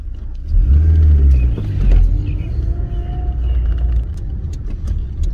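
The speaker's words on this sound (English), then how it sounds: "it's got a really lovely transmission noise, this car as well" A Rover 213S hatchback driving along with a steady low engine rumble and a faint gear whine from the transmission, fairly loud throughout, no talking.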